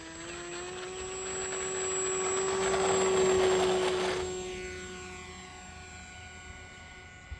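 The electric motor of a HobbyZone AeroScout 1.1m RC plane whines steadily at half throttle during takeoff. The buzzing tone swells louder as the plane passes close, then fades as it climbs away, with no talking.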